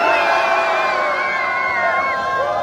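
A crowd at the Collect-A-Con collectibles convention in Long Beach screams and cheers together, a steady wall of excited shouting with high children's voices throughout.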